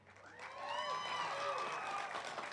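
A graduation audience cheering and applauding for a high school teacher: a short swell of clapping topped by whoops and shouted cheers from a crowd at moderate distance.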